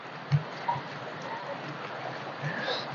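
Rain falls on a rainy day among trees and plants, a soft, even, continuous patter with a couple of faint dull drips or thumps standing out.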